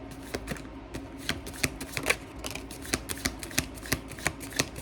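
Tarot cards being shuffled: a steady series of crisp, sharp flicks and riffles, close and clear, in a regular rhythm with no voices.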